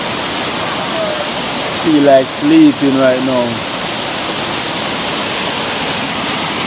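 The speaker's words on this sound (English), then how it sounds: "All they can hear is the river sound." A river running nearby, a steady loud rushing wash throughout, with someone briefly speaking over it in the middle.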